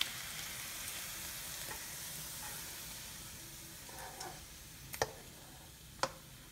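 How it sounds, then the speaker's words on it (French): Meat frying in a pan for a Chinese twice-cooked pork dish after Chinese yellow wine is added, a steady close sizzle with a few sharp clicks and taps of utensils near the end. "Maintenant, on rajoute l'alcool jaune chinois."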